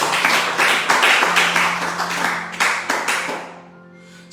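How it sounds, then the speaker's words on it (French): Worship congregation clapping and acclaiming loudly together, a dense steady wash of applause with cheering voices and a held musical tone underneath, fading out near the end. "Acclamons très fort."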